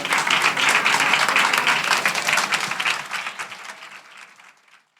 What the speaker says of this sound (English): I would say just keep the applause going.